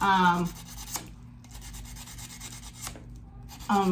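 Sandpaper rubs a small dollhouse part in a few short, close scraping strokes, with quiet pauses between them and brief voice sounds at the start and end.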